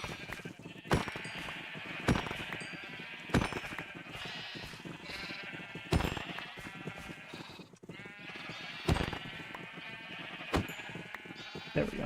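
Sheep in the Minecraft video game bleat repeatedly, sharp separate cries spaced roughly one to two seconds apart over a constant noisy background.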